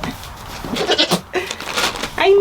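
Baby goats bleating in a farm shed, several short, close, loud bleats in quick succession, with a sustained cry at the end.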